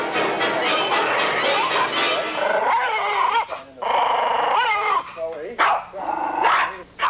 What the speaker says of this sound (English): This dog hates George Winterling